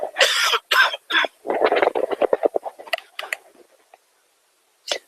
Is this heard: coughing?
yes